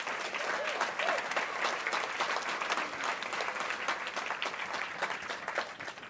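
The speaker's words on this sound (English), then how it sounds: "One more round of applause for our honorees" Sustained applause from a gala audience for honorees at an evening justice event, a steady wash of many hands clapping, fairly faint and distant, with no break.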